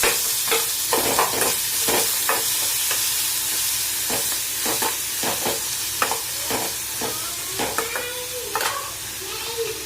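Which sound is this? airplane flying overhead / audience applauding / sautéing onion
sautéing onion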